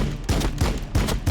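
Gunfire in the Warhammer 40,000 Battlesector video game: a short, loud, close burst of rapid shots with heavy booming thumps in a quick rhythm.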